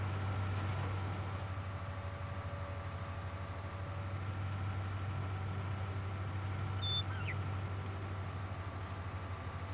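A tractor engine drones at low, steady pitch while pulling a plow slowly uphill in a farming simulator game, faint and constant, with a brief high chirp partway through.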